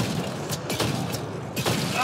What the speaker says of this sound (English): Let's switch up to my shotgun here.